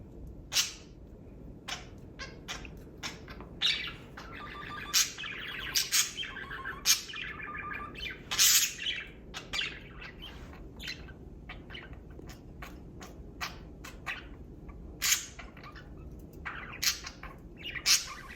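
Budgies chirp, tweet and squawk in a flock, a busy stream of sharp high calls and warbling chatter with louder squawks scattered throughout, fairly close and without talk.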